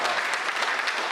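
An audience at a Hindi poetry recital at a kavi sammelan claps in dense, steady applause, broad and continuous without pause.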